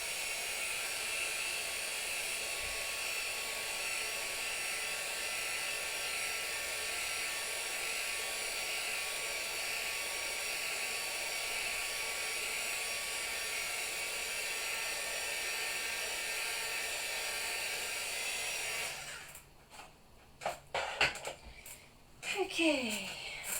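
A heat tool dries freshly stamped ink on a craft sentiment, giving a steady close whirring blow that runs for about nineteen seconds, then cuts out into handling clatter.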